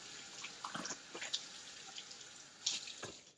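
A sponge rinsed under a running kitchen tap, quiet splashing water with uneven gushes and drips as the sponge is worked under the stream.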